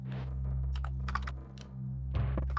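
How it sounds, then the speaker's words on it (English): Soft, irregular clicks of keyboard typing in short bursts over a steady low hum, fairly close, with no talking. "We can hear your keyboard, by the way."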